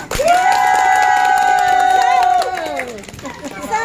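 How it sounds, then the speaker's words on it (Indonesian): Audience at a community parenting simulation event in Bekasi cheers and claps, with loud shouting voices and whoops over a continuous bed of applause that eases off toward the end. "Penonton kasih tepuk tangan dulu."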